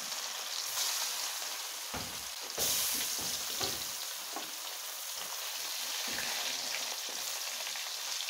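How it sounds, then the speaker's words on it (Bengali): Pieces of chitol fish fry in hot oil, giving a continuous crackling sizzle with sharper spitting bursts and a few clanks and bumps from a utensil against the pan. "এখন বাকি মাছটা আমি ফ্রাই করে নেব"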